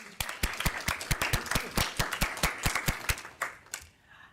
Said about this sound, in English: We would like you to stand up so we can clap.